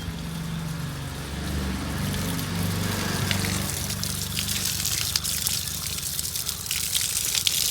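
Water runs and splashes steadily while freshly harvested ginger is washed outdoors, a continuous close trickle over a low rumbling background.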